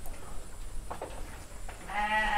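Sheep in a galvalume and wooden pen bleat in a few short, quiet calls over low background noise. A louder, steadier tonal sound rises near the end.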